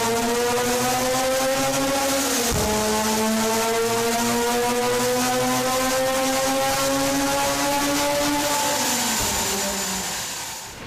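A Mazda RX-8 R3's rotary engine runs hard toward its 9,000 RPM redline, a loud, steady high-pitched buzz that climbs, dips briefly as it shifts, then climbs again before easing off, with no talking.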